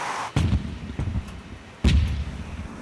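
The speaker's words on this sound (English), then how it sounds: "The crew is carrying out gun training today." Three heavy gun blasts from a navy frigate during gun training at sea, loud booming reports spaced about a second apart, each followed by a short rumbling decay.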